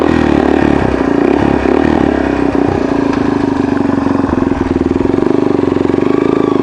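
Yamaha XT225 dual-sport motorcycle descending a mountain road, its small single-cylinder engine droning steadily and close with a steady throb and light mechanical clatter throughout, no talk.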